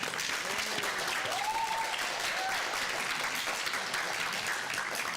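An audience at a graduation ceremony applauds with dense, sustained clapping that fills the room evenly, with a faint voice or cheer rising briefly in the middle.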